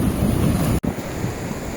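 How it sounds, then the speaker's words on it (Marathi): Big ocean waves surge and crash on a Konkan beach in a loud, continuous roar, with wind rushing across the microphone and one brief dropout. "पाणी आता उठत आहे बघा. मोठमोठ्या लाटा येत आहेत तिकडून बघा."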